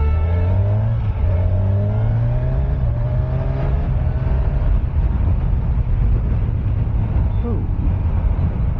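A Kawasaki Ninja 1100SX engine pulls hard while riding, its loud, rising note sweeping upward through the gears against steady wind roar from start to finish.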